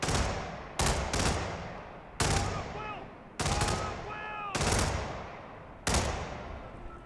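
Gunshots in the Hitman video game, a handful of sharp loud reports spaced irregularly, each with a fading echoing tail.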